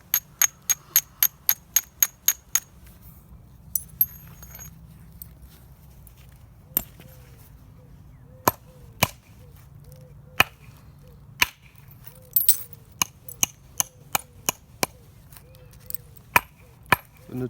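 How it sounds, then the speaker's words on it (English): Sharp, percussive clicks of a soft hammer striking flint while knapping a handaxe, coming in a rapid burst of blows at first, then spaced irregularly, close and crisp. "if I can't get this soft hammer to behave itself"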